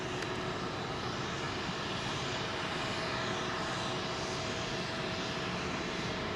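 Aegean Airbus A321neo jet banking hard to the right after departure from London Heathrow runway 27L, a steady broad roar of engines holding at a constant distance throughout, with no voices.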